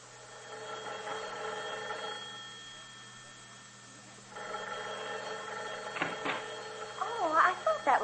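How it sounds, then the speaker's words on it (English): A telephone rings in bursts, two longer electronic ring patterns separated by a pause, followed by a brief clatter as the receiver is handled, heard moderately loud in a quiet room of an old-time radio drama. "That was my phone ringing."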